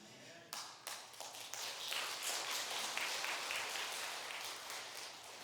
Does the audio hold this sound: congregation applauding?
yes